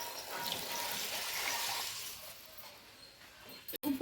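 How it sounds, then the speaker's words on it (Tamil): Water gushes into a cooking pot for kuska, a plain biryani-style rice, as a close, rushing pour that tapers off before a brief clunk at the end, with no talk. "ஆனால் தண்ணி 5 கப் எடுத்திருக்கேன்."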